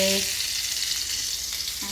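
Crackling mustard seed tempering poured into a simmering vegetable stew, a brief burst of bright sizzle that fades into a soft hiss over two seconds, close, with a faint voice at the start and end.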